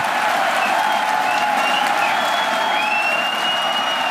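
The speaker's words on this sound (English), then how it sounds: "You can hear our crowd going wild." A crowd watching a SpaceX Falcon Heavy launch applauds and cheers in a steady, continuous wash of sound, with faint whistles and shouts rising above the clapping throughout.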